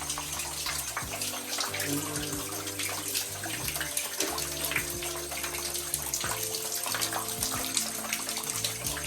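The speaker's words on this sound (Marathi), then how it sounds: "बाहेर एका छोट्याशा झरोक्यामधून जे पाणी पडते व त्या पाण्यामधून हा धबधबा दिसतो" Water pours steadily at the Jatashankar Mahadev waterfall in Ambabarwa sanctuary, Buldhana, falling through a small opening inside a cave shrine onto a Shiva lingam, a constant close splashing rush with a low hum beneath and no talking.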